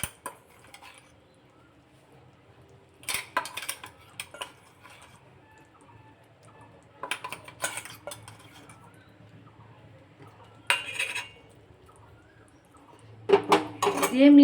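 A utensil mixes sweet raw mango pickle with roasted spices in a pan, making scattered clinks and scrapes in separate bursts against a quiet background.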